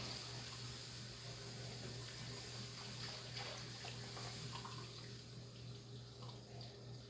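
Water runs steadily from a tap into pans of gravy mixture in a kitchen, a constant soft rushing stream with a low background hum, no voices.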